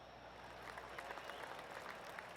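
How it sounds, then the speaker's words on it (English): Crowd applause rises over a golf course during a Zurich Classic round in the video game PGA Tour 2K21, a faint, distant, steady patter of clapping lasting a couple of seconds. "We heard some applause a little while ago."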